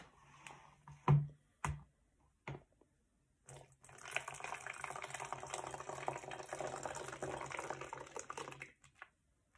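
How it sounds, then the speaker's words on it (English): Hot water poured slowly from a measuring cup into a bottle, a steady close splashing stream lasting about five seconds after a few light knocks and clinks. "I'm going to slowly pour it into the bottle."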